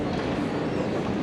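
Train en route from Lille Europe toward Cologne, a steady low rumble of rolling carriage noise heard from on board, continuous and moderately loud.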